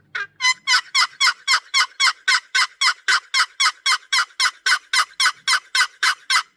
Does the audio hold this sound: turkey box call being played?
yes